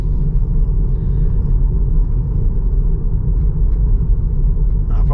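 A Tesla Model 3 rolls along a road at about 50 km/h, its steady low tire and road rumble heard from inside the cabin, continuous and even with no voices.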